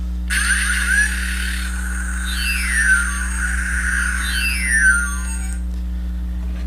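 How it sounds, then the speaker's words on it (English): An electronic medic gun sound effect from a toy ambulance plays alone: warbling, sweeping synthetic tones rise and fall in repeated waves for several seconds over a steady low hum. "this is the medic gun sound effect."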